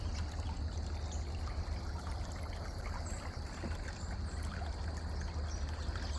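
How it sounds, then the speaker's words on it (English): Steady, continuous rush of water flowing under a bridge at sunrise with a soft rippling texture, constant and fairly close, with no voices. "rippling of the water."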